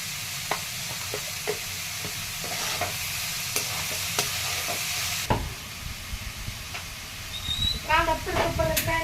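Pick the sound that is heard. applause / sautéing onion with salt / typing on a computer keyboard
sautéing onion with salt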